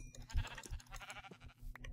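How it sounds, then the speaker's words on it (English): Sheep bleating in the video game Minecraft, a few short wavering bleats close by and fairly quiet, with no talk over them. "Oh my god, a sheep!"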